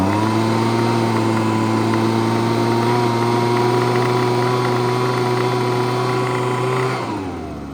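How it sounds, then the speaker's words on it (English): A small Ryobi two-stroke leaf blower engine held at throttle, a loud steady buzzing drone with a rough rattle, winding down at the end. "you can definitely hear some engine knocking and rattling when you do get it throttled up"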